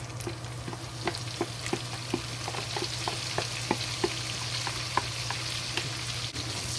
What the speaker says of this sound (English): When most of the bacon's fat go to the oil and the bacon started become crispy, then we added the green onion to it